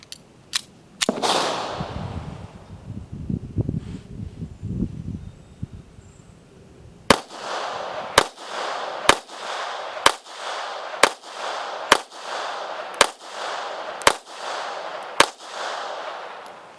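Sharp .380 pistol shots crack at a shooting range: a few early reports, then eight evenly spaced loud shots in the second half, each with a short echo and no talking.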